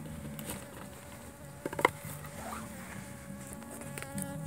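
Low, steady buzzing of honey bees droning inside an opened mini mating nucleus hive, fairly faint, with a few soft knocks and rustles in the foreground.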